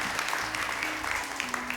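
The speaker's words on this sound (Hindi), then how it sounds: "बहुत सारी तालियां इन लोगों के लिए" Studio audience applauding during a televised Ramadan debate show, a steady dense patter of clapping for just under two seconds with a host's voice faintly mixed in.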